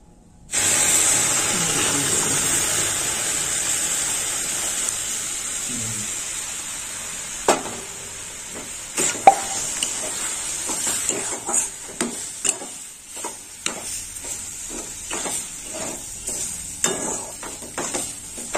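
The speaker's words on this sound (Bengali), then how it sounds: "এবার আমি সুজিতে দুধ দিয়ে দেবো।" Milk is poured into semolina frying in a pan over fairly high heat for carrot malpua, giving a steady hiss and sizzle with scattered scraping clicks of stirring. The sound comes close and continuous, with no talk.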